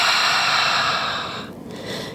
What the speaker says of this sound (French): Et une respiration sonore par la bouche.